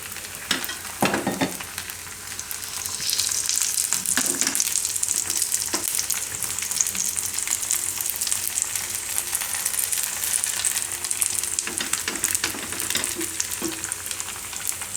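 Rice and flour pudla frying on a griddle with a little oil added at the sides over medium heat: a continuous bright crackling sizzle that swells after a few early spatula knocks and holds steady, close by and alone.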